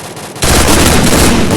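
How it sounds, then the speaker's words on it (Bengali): M10 gunfire in a mobile battle-royale shooter game, a loud sustained burst of rapid automatic fire that starts abruptly after a brief quiet moment and carries on to the end. "ফায়ার করছি দেখেন গাইজ M10 কিভাবে জায়গাটা মারে"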